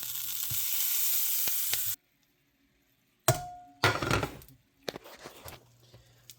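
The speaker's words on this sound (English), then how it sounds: "We'll put our butter in." Butter hitting a hot pan sizzles loudly in a steady hiss for two seconds, then stops. Later bursts of sizzling, clinks and scraping follow in a close kitchen setting.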